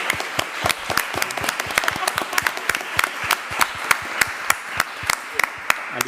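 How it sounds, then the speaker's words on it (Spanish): An audience at a science talk applauds its speakers, a moderate scattering of individual claps that stays steady and fairly close throughout, with no voices over it. "Os pido que le deis, por favor, un aplauso a nuestros ponentes."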